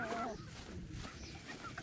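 Chickens clucking and murmuring nearby, a soft, continuous burble of bird calls with no clear voices.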